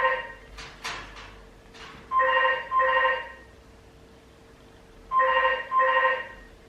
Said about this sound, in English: Who answers the house phone?